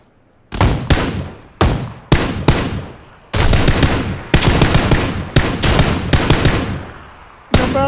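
Gunfire in the video game PUBG rings out as a run of loud, close shots, some single and some in quick bursts, each cracking sharply and fading into a short echoing tail.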